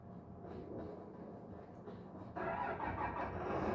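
A New Holland T8 tractor's heavy diesel engine idles with a low rumble, then revs up sharply partway through, growing louder and rougher, nearby with no speech.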